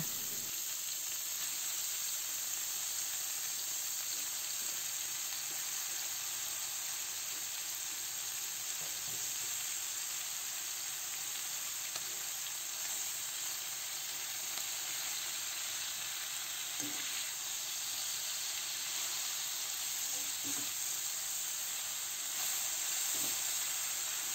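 Water spinach (kangkong) sizzles in a pan with chicken, a steady, dense frying hiss that runs unbroken throughout with faint stirring clinks, no voices.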